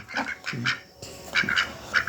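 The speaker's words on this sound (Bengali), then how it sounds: "সব কিন্তু লোকাল হাঁস একদম দেশি হাঁস" Local desi ducks of a native breed, hatched at home, quack in short bursts of two or three calls, fairly close and moderately loud with no one speaking.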